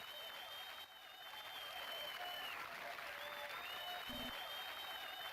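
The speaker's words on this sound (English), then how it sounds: "You can hear the cheering of the crowd." Steady crowd cheering and applause in a video game fill the whole stretch, dense and continuous, with faint tonal game sounds and no clear speech.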